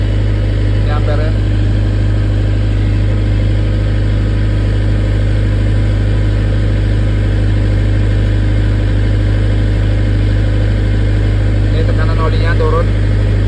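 A 40 kVA generator set engine running hot under a load test, a loud, steady low drone with constant hum that persists throughout, with talking heard over it.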